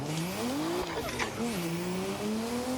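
Video game car drifting on the Drift Masters Spain layout, engine note rising and dipping with throttle while tires squeal through the slide, loud and continuous.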